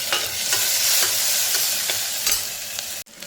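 Turmeric paste being stirred in a hot pan for moong dal khichdi, with a loud, close, steady sizzling hiss broken by regular spoon scrapes, ending in a brief cut.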